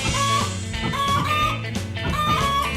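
Repeated chicken clucks and squawks ring out over a dense, constant backdrop of game music and effects in the video game Tasty Planet: Final Bite.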